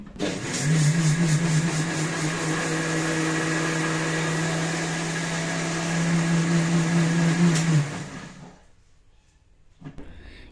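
A mixer grinder grinds soaked rice into batter for rice sandige, a steady loud motor whine holding for about eight seconds before cutting off and winding down, with a brief clunk near the end.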